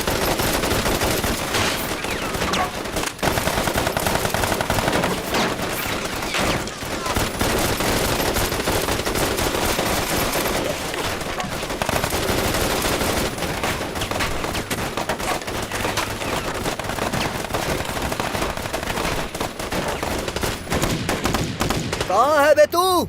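Rapid, sustained machine-gun fire from an action movie dubbed in Hindi, loud and dense with overlapping bursts throughout, with shouting mixed into the battle noise.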